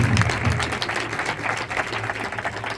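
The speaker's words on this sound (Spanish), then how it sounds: "Rosa Sánchez, otro aplauso." Audience applause from a studio crowd welcoming guests at a paranormal-themed show with mediums, steady dense clapping throughout, loud and close.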